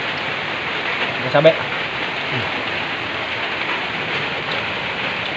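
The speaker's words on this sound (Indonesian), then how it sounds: "Ini mohon maaf kalau agak bising, soalnya hujan aja bro, kondisinya." Heavy rain falls outdoors in a steady, dense hiss that stays constant throughout, with someone speaking briefly near the start over the downpour.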